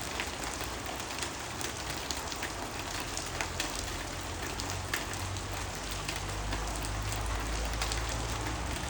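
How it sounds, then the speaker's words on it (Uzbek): Heavy rain pours down steadily at a house where tin roofing sheets are temporarily laid over a roof under construction, a dense, even hiss that holds for the whole stretch with no voices. "Yomg'ir jadallashib ketdi."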